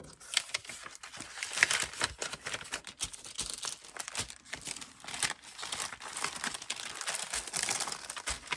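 A paper sack crinkles and rustles continuously at close range while vintage ephemera is packed into it, with dense crackling bursts and soft thumps throughout and no speech.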